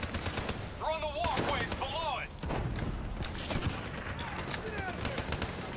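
Rapid gunfire from the Call of Duty Black Ops III campaign crackles in dense bursts throughout, mixed with game effects and tonal sweeps, while people talk over the action.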